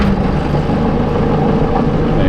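A large diesel excavator engine, warm and started without the glow plug, running with a loud, steady low rumble close by and no clear pauses.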